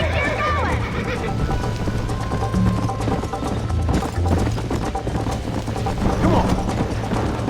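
Horse hooves gallop in a quick, steady clip-clop rhythm in Red Dead Redemption, with snorts and game sounds mixed in and a voice calling out over the ride.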